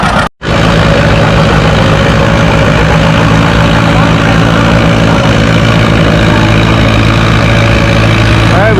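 A John Deere 730 tractor engine drones loud and steady through a tractor pull run, the heavy low rumble continuous and close after a brief silent gap at the start.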